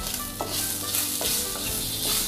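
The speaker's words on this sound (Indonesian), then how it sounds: "goreng ya, tumis bentar ya untuk sosisnya biar matang" Sausages fry in oil in a pan, sizzling loudly and continuously while a utensil stirs and scrapes them three or four times at an even pace.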